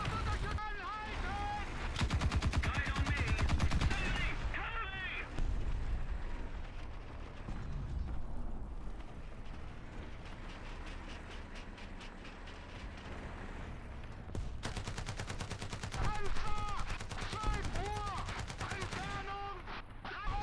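Machine gun fire from a T-10A tank in the War Thunder Mobile game rattles in rapid bursts over a steady battle din, with other game sounds and explosions mixed in across the stretch.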